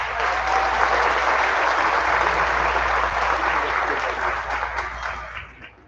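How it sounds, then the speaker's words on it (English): Graduation audience applauding for Ricardo, a pediatrics graduate, with a full steady wash of clapping that gradually tapers and fades out near the end. "So a round of applause for Ricardo."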